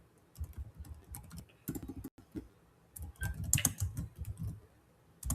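Close, soft computer keyboard typing in quick irregular clusters, with small pauses between bursts of key clicks and no speech.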